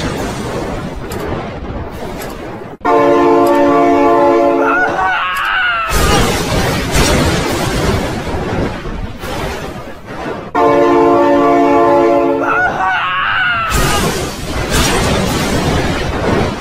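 Train rumble and a blaring horn in a cartoon car game featuring a McQueen truck and a monster truck, the harmonic horn blasts sounding twice amid loud game noise, with a voice speaking over it.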